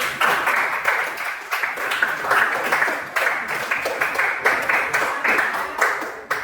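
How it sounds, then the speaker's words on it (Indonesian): A classroom full of people applauds with steady, dense clapping that pulses slightly in waves throughout, fairly close and loud. "tepuk tangan dulu"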